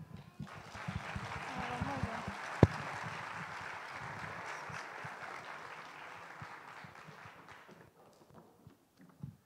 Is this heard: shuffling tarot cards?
no